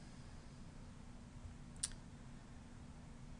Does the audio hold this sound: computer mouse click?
yes